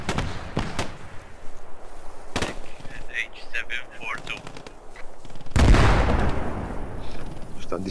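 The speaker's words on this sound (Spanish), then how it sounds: "yo solo sé que oigo tiros por aquí" Gunfire in the World War II shooter Post Scriptum: sharp shots and bursts crack out at varying distances, with a louder close volley near the end, while a player talks over it.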